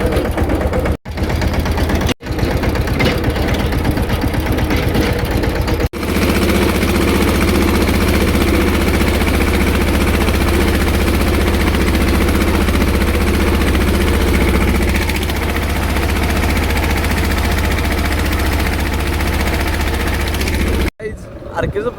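A tractor engine idles loudly and steadily during pesticide spraying on a farm plot, a constant close drone with a few brief cutoffs and people talking over it.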